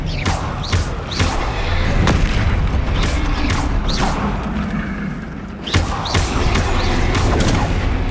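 Booming spell blasts and crashing impacts from a troll fight in the video game Hogwarts Legacy, a dense, loud barrage of repeated whooshing hits and thuds over a continuous rumbling battle bed.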